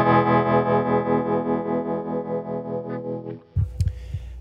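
An electric guitar chord rings through a Hardwire TR-7 tremolo pedal set to its treble position, pulsing steadily in volume as it decays. A few muted string knocks follow at the end.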